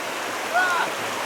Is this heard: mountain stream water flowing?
yes